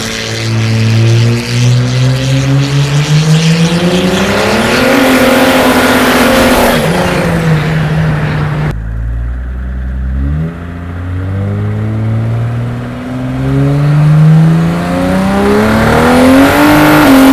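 An old car's engine runs loud and close, revving up and down in rising and falling sweeps, briefly cutting out before roaring back with more throttle.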